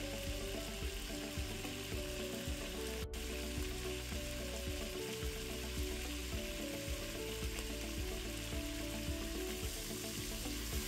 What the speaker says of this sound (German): Wenn das Fleisch dann schön angebraten ist, einfach auf einen Teller zur Seite legen und die nächste Portion anbraten.